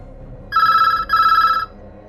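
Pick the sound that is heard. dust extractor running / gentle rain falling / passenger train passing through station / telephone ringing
telephone ringing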